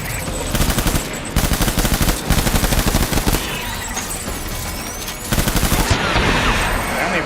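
Video game gunfire in Death Stranding: loud bursts of rapid automatic fire in several volleys with short pauses between them, close and harsh, with no speech over it.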